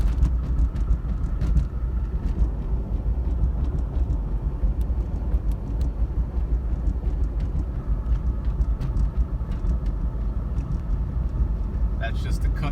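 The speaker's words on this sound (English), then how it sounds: "That's just the cuts in the road that you're hearing." Steady, loud road rumble from a moving Jeep Cherokee Sport XJ, a continuous droning hum of tires over grooved road cuts with no pauses.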